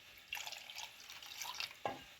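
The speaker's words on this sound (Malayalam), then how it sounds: "അതിനകത്തേക്ക് രണ്ട് കപ്പ് വെള്ളം ഒഴിച്ച് തിളപ്പിക്കാം" Water poured from a cup onto jaggery in a cooking pot, a soft splashing trickle running steadily for about two seconds and ending in a brief louder splash, with no voices.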